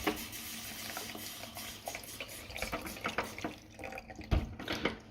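Water trickles and drips from a tap line being drained during a leaky faucet repair, with a steady wet splashing and a few louder drips and clunks near the end.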